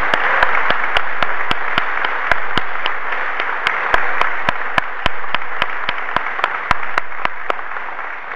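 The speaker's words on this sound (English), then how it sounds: "Let's give them a round of applause." An audience at a Washburn Law School commencement applauds steadily in a large hall, a dense, even wash of clapping with sharp clicking bursts punctuating it throughout.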